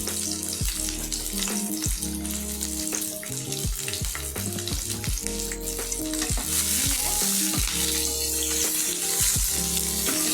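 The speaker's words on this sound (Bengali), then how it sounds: "তাতে দিয়ে দিব তেজপাতা, আর দিব পেঁয়াজ কুচি করে নিয়েছি, দিব পেঁয়াজ ফোড়নে।" Chopped onion, bay leaf and dried red chili sizzle loudly in hot oil for Bengali dal, with a constant close frying hiss broken by repeated sharp spatula knocks and stirring scrapes against the pan.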